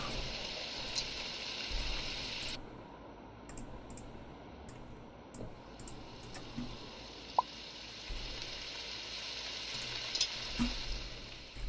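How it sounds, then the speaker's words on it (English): A steak fries in a pan in the Cooking Simulator PC game, giving a steady, even sizzle throughout. Occasional faint clicks and taps are heard over it, and no one speaks. "Fry the steak for 60 seconds."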